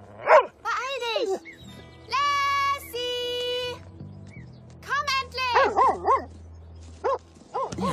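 A dog in a German-dubbed Lassie episode yelps and whimpers in several short, bright bursts, mixed with a voice calling and other talk, moderately close.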